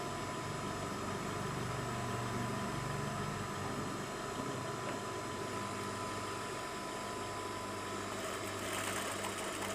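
Sewing machine stitching a garment slit, a continuous mechanical whir that runs loud and unbroken for the whole stretch, with no voices.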